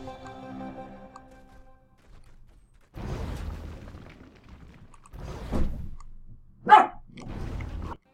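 Dog barking in short bursts during a Civilization Beyond Earth Rising Tide session, several separated barks of moderate loudness with no talk over them, the last sharper and louder.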